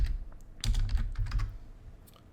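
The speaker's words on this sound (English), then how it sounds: "Just letting Rachel finish typing who she wants for feature matches" Quick, uneven typing on a computer keyboard at a card game tournament table, with a cluster of close, clicky keystrokes that fades toward the end; no one talks.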